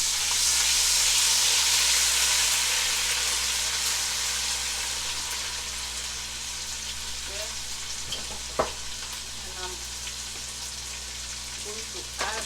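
Onion, garlic and ginger frying in hot oil in a pot for egusi soup, a loud steady sizzle that slowly eases off, with a few light stirring scrapes near the end.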